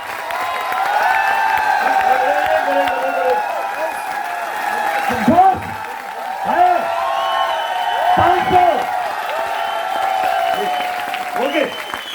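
A large seated audience at a training seminar claps loudly and continuously, with a voice speaking over the applause throughout and a few louder bursts.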